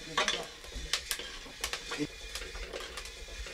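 Coffee beans roasting in a pot over a fire, with a few sharp crackles and pops rising over a steady sizzling, stirring background, close by and moderately loud, with bits of voice nearby.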